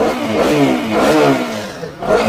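A 2016 ABS-model motorcycle at a used-bike showroom near Kolkata revs up close, its engine note rising and falling in a few swells over a steady, loud idle rumble.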